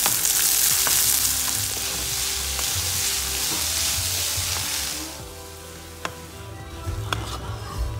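Coarsely ground tur dal, red chili and fennel seeds sauté in a hot pan with a loud, close hiss that eases partway through, while occasional sharp spoon taps and scrapes ring out against the pan.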